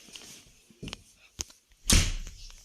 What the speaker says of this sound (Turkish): Kapıyı kapattım ayağımla bir de.